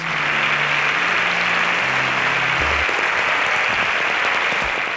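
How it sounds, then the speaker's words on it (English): Loud, steady audience applause runs the full length as contestants leave a competition stage, dense clapping with no voices over it. "Please, a round of applause for them as they exit the stage."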